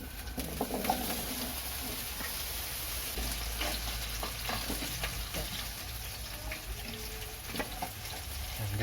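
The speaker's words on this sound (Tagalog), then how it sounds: "Pan-fry is yung patatas." Potatoes pan-fry for pork caldereta with a steady, close, crackling sizzle of hot oil that runs unbroken and alone, with a few small pops.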